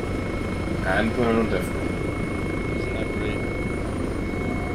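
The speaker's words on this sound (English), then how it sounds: "We got a working Hellcat with a working searchlight." A Hellcat helicopter in the Arma 3 game gives a constant rotor and engine drone throughout, loud and even, while someone talks briefly over it near the start.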